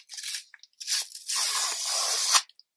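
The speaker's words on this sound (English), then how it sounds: "Let's go on to opening up the packages that just arrived in the post" Parcels that came in the post being torn open: crackly tearing and crinkling of packaging in a few close bursts, with the longest rip running more than a second, and no talk.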